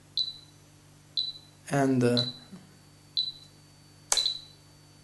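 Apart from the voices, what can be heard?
Spektrum DX7 radio transmitter timer start beeps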